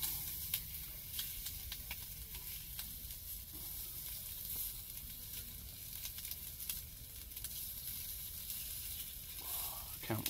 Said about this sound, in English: getting a bit of bacon on the go